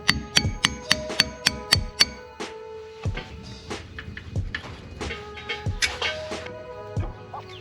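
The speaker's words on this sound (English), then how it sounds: "You want to get yourself a punch and a hammer and get that out." A hammer strikes a punch to drive out the axle nut cotter pin on a VW Beetle rear axle, giving a fast run of sharp metallic clinks followed by scattered, irregular knocks and clatter, close and loud.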